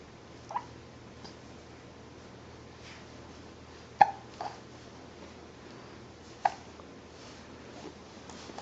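Small turtle hiccuping in short, sharp little bursts, three or four spaced a couple of seconds apart, close but quiet over a faint steady background hum.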